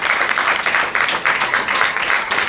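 Audience applause at a book presentation during a furniture fair, a dense, steady wash of clapping that swells and dips over a couple of seconds with no speech on top.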